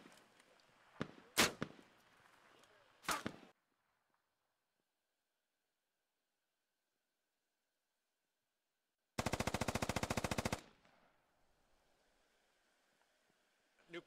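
Bursts of SAW machine gun fire in the Squad video game: two short, sharp volleys, a long quiet gap, then a sustained rapid burst of about a second and a half, loud and close.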